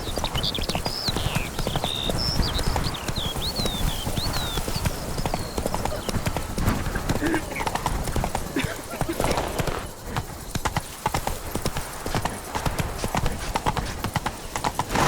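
Roach the horse galloping in The Witcher 3, rapid rhythmic hoofbeats pounding close and loud throughout, with birdsong chirping in the background early on.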